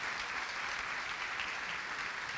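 A church congregation claps loudly together in worship, a thick sustained wash of applause from a large group heard throughout, with no clear talking over it.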